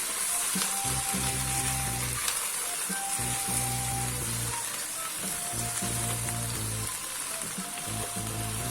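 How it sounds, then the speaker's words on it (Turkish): Lamb ribs and vegetables are stirred in a pan before any oil is added, giving a steady, dense sizzle with faint scraping. The sound runs continuously and evenly, with no talking. "Şöyle de karıştırıyorum. Henüz yağ eklemedim."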